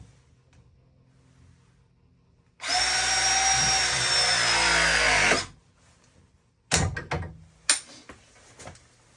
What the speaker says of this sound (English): I'm gonna switch the jaw to 1/2 inch. And press this fitting.